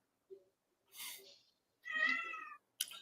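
A cat meows at close range: one clear, drawn-out meow in the middle, framed by softer short chirps and breathy sounds, with quiet gaps between.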